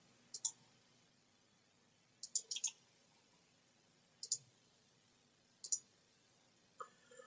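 Computer mouse clicks, crisp and close, coming alone in single clicks and quick pairs spread several seconds apart over a quiet background.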